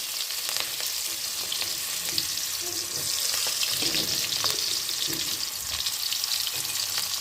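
Onions and green chillies fry in a pan, giving a steady, close sizzle and crackle that runs without pause for the whole stretch, with a few faint stirring clinks.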